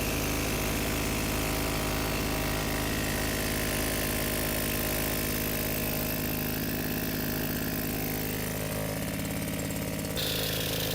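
A 1962 Eismann generator with a small 2-stroke engine of about 2 horsepower runs at a steady, buzzy, rattling idle, close and loud for the whole stretch, with a slight change in tone near the end.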